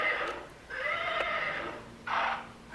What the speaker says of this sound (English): a child's horse toy is seen rocking back and forth on its own and making noises